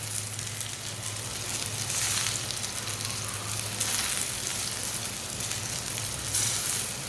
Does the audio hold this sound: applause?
no